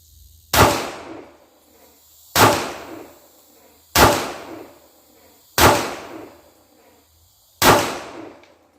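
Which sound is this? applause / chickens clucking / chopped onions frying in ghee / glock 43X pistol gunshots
glock 43X pistol gunshots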